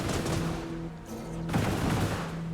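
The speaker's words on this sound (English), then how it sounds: "So we're going to get shot at by the turrets first." Turret gunfire in the Industries of Titan game, rapid overlapping bursts of shots with a brief dip midway before a fresh loud volley, close and alone without talk.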